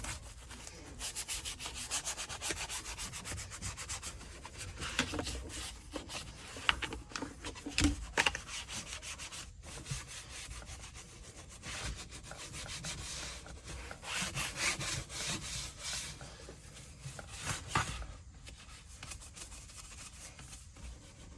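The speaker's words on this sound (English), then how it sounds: "take a little detail brush here, scrub it into some of these tighter to reach areas" A small detail brush scrubs the leather interior of a '66 Chevy Impala barn find with continuous close, raspy strokes in a steady back-and-forth rhythm, quiet and alone with no talking.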